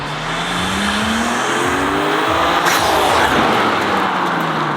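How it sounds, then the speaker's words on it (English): BMW G8X M3/M4 fitted with aftermarket front-mount intakes drives past, the engine note rising loudly as it accelerates and then sweeping by close up. "these intakes are significantly louder than stock"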